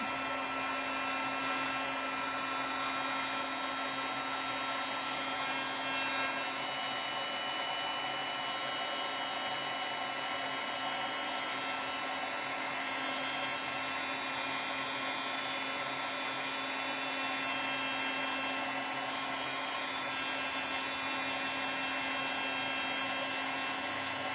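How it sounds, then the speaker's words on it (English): A Wagner heat tool blowing hot air, a steady whirring fan drone with a constant whine, unchanging and moderately quiet throughout with no speech. "this Wagner heat tool, and we're gonna heat this up"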